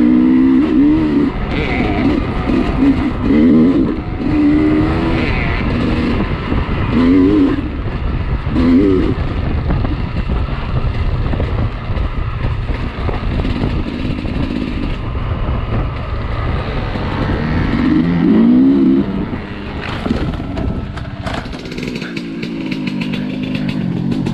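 A nearby Sherco 250 two-stroke enduro dirt bike engine buzzes and drones throughout, rising and falling in pitch with repeated revs over a rough, constant roar.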